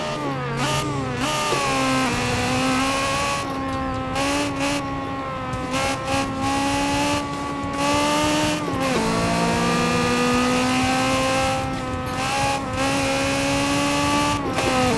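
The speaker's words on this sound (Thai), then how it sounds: "เบิร์นโชว์ไปหนึ่งทีรอบตัดรอบตัด" A Honda Civic FK wide body in Assetto Corsa does a burnout, its engine screaming and bouncing off the rev limiter in stuttering pulses, with a sustained high whine and a brief drop and recovery midway.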